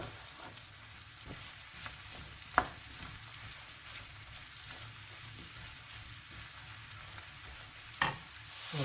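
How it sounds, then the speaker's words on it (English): About 300 grams of mushrooms fry with onions in a pan, giving a soft, even sizzle at a moderate distance, with two sharp utensil taps against the pan partway through. "get the mushrooms fired in there straight away, just to get them browned off"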